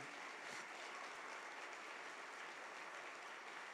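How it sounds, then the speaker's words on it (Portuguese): Congregation applauding in a church service, a steady dense wash of clapping that fills the whole stretch at a faint, even level with no talk over it. "Aplauda ao Senhor por essa verdade."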